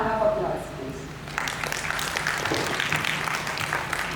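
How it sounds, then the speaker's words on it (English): Audience applause for an alumna speaker at a school talk, a broad wash of clapping that swells in after a brief pause and carries steadily to the end, with a voice heard at the start. "Give her a round of applause,"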